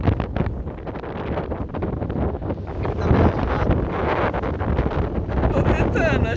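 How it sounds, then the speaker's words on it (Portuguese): Strong wind at the top of a coastal cape roars and buffets steadily and loudly close to the microphone, with gusts swelling throughout. "muito vento, mas muito vento."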